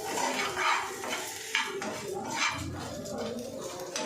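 A spoon scrapes and clinks in a pan as chilli powder is stirred into frying okra (bendakaya). The scrapes come in an uneven rhythm over a soft sizzle, close by.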